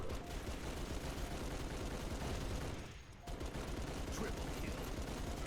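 Turret gunfire in Halo 3 ODST during a Flood Firefight, a dense, continuous automatic roar that holds steady throughout, broken by one short lull near the middle before the firing resumes.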